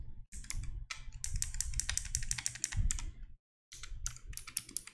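Fast typing of C# code on a computer keyboard, with dense bursts of close, crisp key clicks in an uneven rhythm, broken by one brief pause, with no speech.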